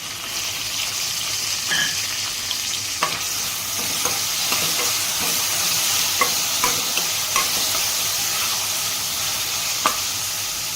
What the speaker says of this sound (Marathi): त्यात टमाटो टाकून घेतलं आहे टमाटो लवकर फ्राय व्हाय